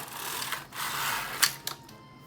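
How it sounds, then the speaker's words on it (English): A Singer knitting machine carriage is pushed leftward across a row of needles, giving a steady mechanical whirring swish that fades briefly, then sharp clacks near the end and a quick stop, close and fairly quiet. "Now I knit to the left"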